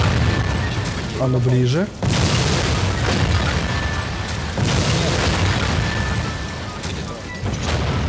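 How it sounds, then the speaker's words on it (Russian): Underwater explosions from a new weapon in the Garry's Mod sandbox game: dull, heavy booms over a continuous loud rumble, with a brief rising tonal sweep near the start and someone talking briefly over it. "под водой взрывы, только вода не расплескивается"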